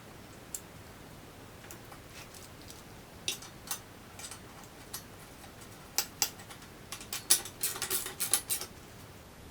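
A lug being tightened down on a manual tire changer, giving a series of sparse metallic clicks and taps that cluster more densely toward the end, faint and close with no talk.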